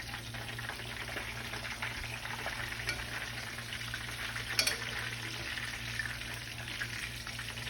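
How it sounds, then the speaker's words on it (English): Pieces of food frying steadily in a pan for mangu, with a constant close, even sizzle, a faint low hum beneath and one brief clink near the middle. "we're just gonna keep letting them fry up over there"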